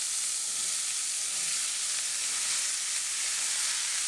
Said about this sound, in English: next we're going to go ahead and add in the onions.